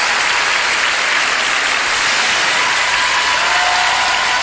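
A large audience at a men's free skate at the European Figure Skating Championships in Vienna applauds loudly and continuously, a dense wash of clapping that fills the arena throughout.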